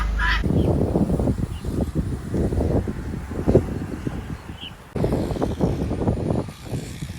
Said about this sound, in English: Two cockerels. Making lots of noise.